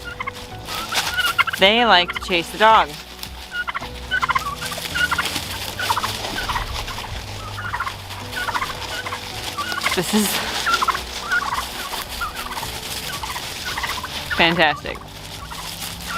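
Several turkeys gobble in rapid bursts, loud and close, between stretches of outdoor noise while a person talks briefly.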